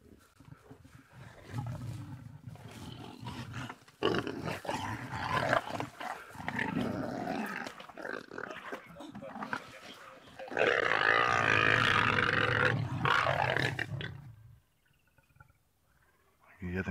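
Two male leopards growl and roar at each other in the wild at close range, deep rumbling snarls rising and falling continuously for most of the stretch before fading.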